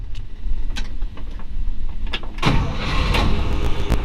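1955 Chevrolet Bel Air hardtop with a 265 V8 and Powerglide cranks and fires, a loud close burst at ignition that settles into a steady rumbling idle.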